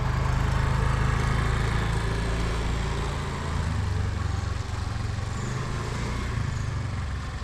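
A rented scooter engine idles steadily and fairly loud in South Goa as a rider learns to turn it around, a continuous low motor drone with slight wavering and no talk over it.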